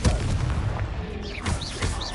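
A Confringo fire spell blast in Hogwarts Legacy, a booming fiery burst with a heavy low rumble and a crackling tail, plus a couple of short whooshing effects near the end.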